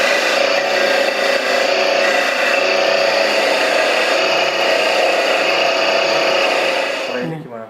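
A coconut is grated continuously by a motorized grater for making young mango shaved ice, giving a steady loud whirring, rasping grind that holds for about seven seconds before winding down at the end.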